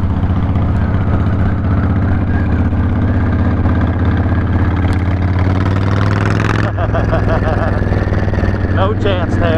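A Honda VTX 1300cc cruiser motorcycle engine runs loud and steady at speed with a deep, continuous drone, its pitch shifting briefly near the end; no talk is heard.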